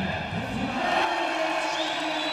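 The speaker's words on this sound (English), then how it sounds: "He's getting a good round of applause" Arena crowd at a wrestling medal event cheering and applauding for a wrestler, a broad steady roar of voices and clapping that holds at moderate, slightly distant volume throughout.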